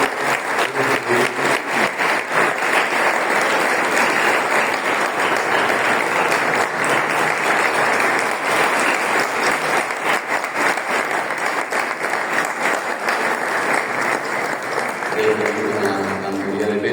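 A hall audience gives the Mérida choir a long, steady round of applause, dense clapping filling the space continuously before a voice begins speaking at the very end.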